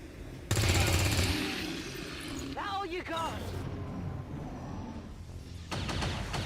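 Automatic weapon fire from an alien gunner in the strategy game XCOM 2 rattles in two loud, sustained bursts near the start and end, with a short electronic warble in between.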